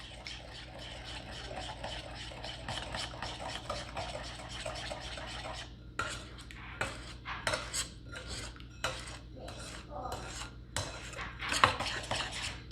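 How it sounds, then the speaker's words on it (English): A spoon stirs baking soda and baking powder into a bowl of cookie dough for honey cookies, first as a steady scraping run, then as a series of distinct, close scraping strokes against the bowl. "So we're gonna give this a stir."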